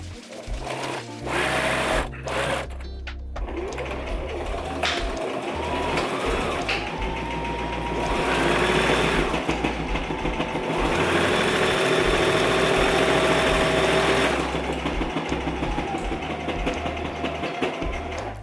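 A sewing machine stitches the side seams of a dress made from an old bedsheet, producing a close, continuous motor whir with rapid needle chatter, rising and easing as sewing speeds up and slows, with some handling clatter at the start.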